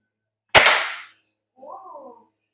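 A single sharp gunshot rings out at a shooting activity at a Coorg golf resort, loud and close with a short decaying tail, followed after a pause by a brief voice.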